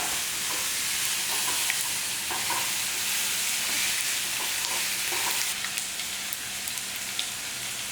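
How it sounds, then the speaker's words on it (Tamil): Urad dal and pepper splutter in hot oil, making a dense, continuous crackling sizzle like heavy rain that stays loud and even throughout. "உளுந்தம்பருப்பு எல்லாமே நல்லா பொரிஞ்சிருச்சு"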